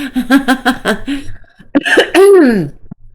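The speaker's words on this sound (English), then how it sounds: "It's like I cough maybe like 3 times a day, and I get on camera, and there it goes." A rapid burst of several coughs, followed by a short pause and then a longer rasping cough-like vocal sound, close and loud.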